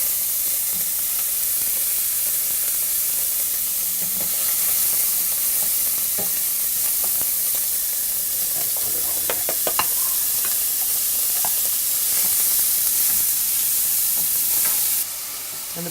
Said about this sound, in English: We're going to start with the pancetta. You just want to render this down a little bit.